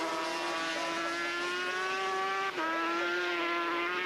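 Racing engine of a 500cc Grand Prix motorcycle at the Assen circuit, a loud sustained high-pitched wail that climbs steadily, dips briefly at a gear change, then rises again, with no talk over it.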